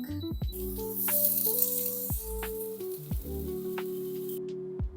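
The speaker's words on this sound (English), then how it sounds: "Now we are going to be frying the pork." Steady loud sizzling of pork frying in a hot pan, with occasional scrapes and knocks of a utensil stirring it.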